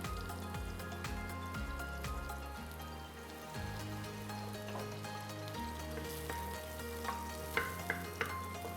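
Mushrooms fry in a pan with a little oil, giving a steady, soft sizzle throughout, with a few light clinks near the end and no voices.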